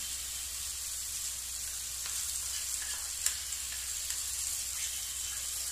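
Grated coconut sautéing in a pan for a pappadam curry gives a steady, even sizzle of frying, with a few faint scrapes and clicks of stirring and no voices.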